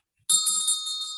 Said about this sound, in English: You can never pull the bell straight up because they're so heavy.